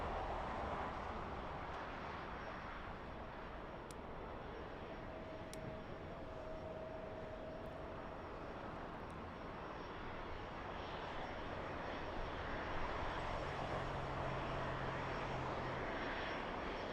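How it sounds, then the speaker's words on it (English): A Boeing 747 freighter landing at LAX, its steady broadband jet roar filling the whole stretch, loud and continuous, swelling slightly toward the end, with no talk over it. "is the 747 on final yet?"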